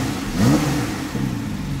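A Porsche engine gives a short rev, rising in pitch and then dropping back to a steady mid-range drone, heard close and fairly loud.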